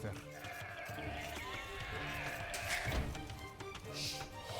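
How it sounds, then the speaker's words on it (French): Sheep bleat in the video game Age of Empires II, brief bleats mixed into busy game sounds and background music while someone speaks over them throughout. "Là il y a un mouton, il y a le deuxième à côté."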